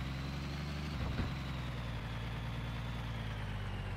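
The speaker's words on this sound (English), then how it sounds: "Our engine is started." A truck engine idles in the video game Hard Truck 18 Wheels of Steel, a steady, loud, low rumble that holds throughout with a slight bump near the start and no talking.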